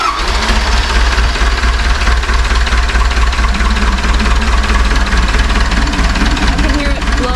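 A Cat forklift engine runs steadily with a combustion chamber leak into the cooling system, a loud continuous idle drone with a faint rhythmic knock throughout.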